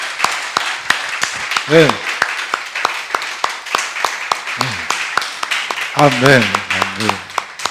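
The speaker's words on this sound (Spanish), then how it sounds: "¿Alguien puede darle un aplauso al Señor?" A church congregation claps in a loose, rhythmic run of hand claps during a Spanish-language sermon, with voices calling out responses over the applause.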